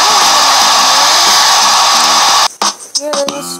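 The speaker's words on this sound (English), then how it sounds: "I'm gonna blow dry on my hair" A handheld blow dryer drying hair roars loudly and steadily at close range for a couple of seconds, then switches off, followed by people talking.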